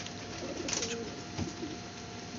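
Pigeons of the Banarasi breed coo softly in a quiet coop, with a couple of low, brief calls set against steady background hiss.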